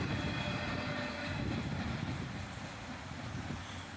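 An EMD diesel locomotive train rolls past with a steady, broad roar and rumble that stays loud and even, then eases slightly toward the end.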